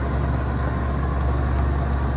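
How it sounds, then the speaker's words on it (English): A John Deere 7720 combine with a cab runs steadily as its unloading auger swings out, a constant low engine drone close by with no distinct mechanical clunks and no talking. "He'll swing the auger out here for you"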